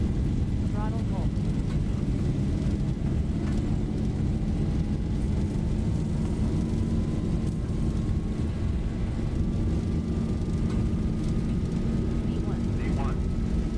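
Boeing 737 jet engines roar at takeoff thrust in the X-Plane flight simulator, a loud, dense, unbroken rumble with a slowly rising whine, and brief cockpit voices over it.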